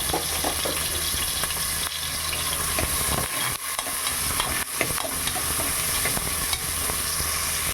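Onions and green chillies fry in oil in a pan for a curry, giving a steady, close sizzle throughout with occasional stirring clatter.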